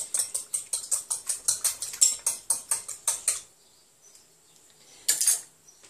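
An egg cracked into a bowl and whisked, about fifteen quick, even rhythmic taps of the whisk against the bowl, then a pause with a brief final burst of whisking.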